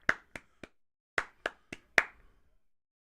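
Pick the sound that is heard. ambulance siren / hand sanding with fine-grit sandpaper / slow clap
slow clap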